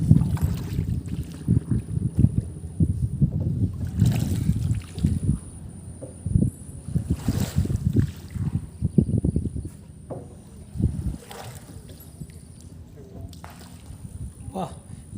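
Boat ride on a river passing under the Chahlari Ghat bridge in eastern Uttar Pradesh, with soft water sloshing and faint wind under steady nearby conversation.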